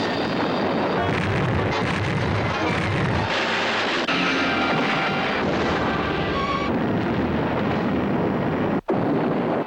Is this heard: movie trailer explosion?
yes